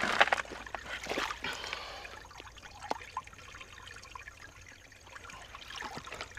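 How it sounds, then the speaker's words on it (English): Gold panning material washed by hand in a dug-out pool of water, with irregular trickling, sloshing and small splashes, louder at first and then quieter, heard close up. "now I'm just going to go ahead and wash the material."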